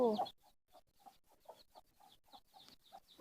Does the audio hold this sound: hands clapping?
no